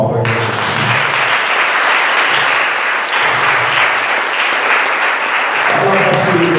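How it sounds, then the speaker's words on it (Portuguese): A church congregation claps for Jesus during a worship service, dense sustained applause filling the room from start to finish, with a voice briefly audible over it near the end. "Dá uma salva de palmas para Jesus."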